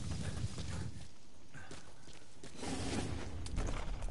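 Hooves clip-clop at a steady walking pace in Metal Gear Solid V, the horse's steps fairly faint under a rushing, noisy game background.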